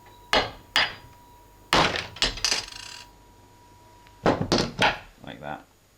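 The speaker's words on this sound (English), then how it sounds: "So if I just tap that, I'll try and show you as best I can." Sharp metallic taps on the cylinder of a Mamod steam engine, struck to knock the cylinder cap off, coming as single knocks and quick clusters of close, bright clinks with quiet gaps between.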